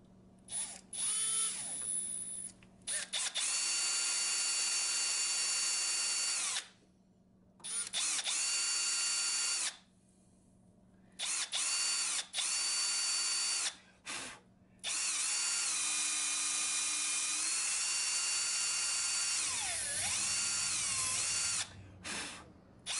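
A power drill drives a greased bit through metal during a 2nd Gen Cummins gauge install, in repeated loud high-pitched whirring runs separated by short pauses, pitch dipping as the bit bites, with no speech.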